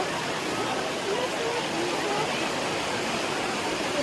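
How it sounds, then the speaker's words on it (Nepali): Steady rushing of flowing river water fills the scene, a broad constant wash of noise with no pauses. "यस्तो खोला गरिरहेको छ"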